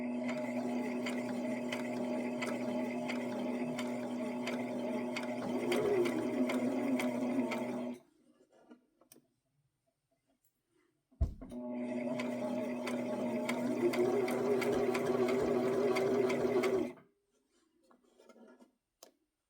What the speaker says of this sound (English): I'll set this aside while I sew this.